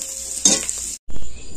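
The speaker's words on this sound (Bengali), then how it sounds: "এটা একটু আমি ভালো করে নেড়ে ছেড়ে ভেজে নেব" Rice and semolina being stirred and fried in a pan, a close hissing sizzle with a brief scrape of a spatula, cut by a short silent gap before the frying hiss resumes.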